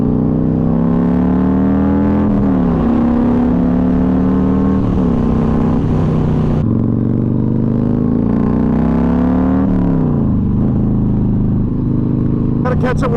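A Yamaha Raider 1900cc V-twin muscle cruiser rumbles loudly while riding, its deep engine note rising and falling through gear changes and throttle rolls, with wind rush throughout.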